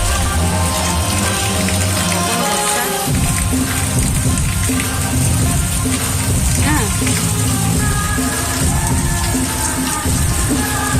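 Steady, dense rain pours down with a constant broadband hiss, loud and close throughout, with a voice and some background noise faintly under it.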